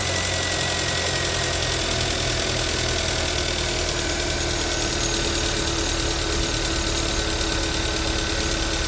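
A Hyundai Avante HD car engine in poor condition idles steadily and close by, with a constant rumble and a faint ticking knock throughout and no voices.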